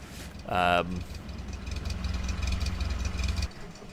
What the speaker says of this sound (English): I can't be bothered to deal with your chugging car.